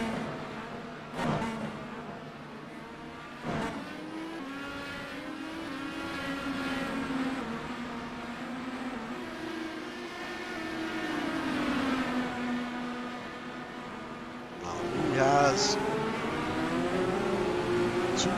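IndyCar engines in an iRacing race at Barber Motorsports Park, a steady, high-pitched engine whine that rises and falls through the gears, with two sharp thumps early and a louder car sweeping close near the end.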